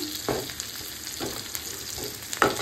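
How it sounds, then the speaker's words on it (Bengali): Steady frying sizzle of onions in a pan for a pabda fish dish, with a few scraping stir strokes at intervals, close by, no voices. "পেঁয়াজটা আমার ভাজা ভাজা হয়ে গেছে।"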